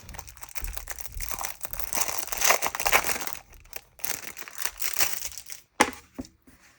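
Paper crinkling and rustling as a 20-page seasonal sticker book is handled and its pages turned, a steady close crackle of sheets with a few sharper flips and a final crisp snap, no voices.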